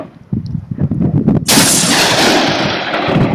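A single loud gunshot from a Doxcarms TK1 tactical shotgun at an outdoor shooting test, a close, heavy blast followed by a long rolling echo.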